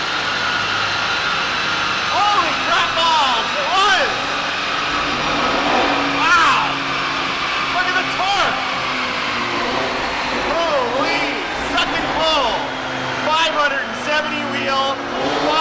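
A car engine revving on a dyno with a Unitronic 4-inch intake, a loud steady roar with repeated rising and falling rev sweeps, while people talk over it.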